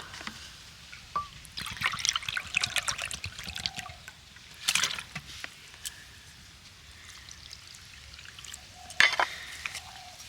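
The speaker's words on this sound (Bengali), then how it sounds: "আরও 1 বাটি জল এবার আমি দিয়ে দেব" Water being poured into a patishapta batter mixture and stirred, trickling and splashing in short bursts against a quiet kitchen background, with clinking of a bowl or spoon.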